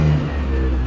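An old car's engine, just started after sitting and low on oil, runs with a brief loud rev that drops back within a second.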